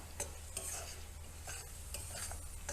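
Paneer masala spices frying and being stirred in a pan, a quiet steady sizzle broken by regular spoon scrapes and clinks against the pan, no voices.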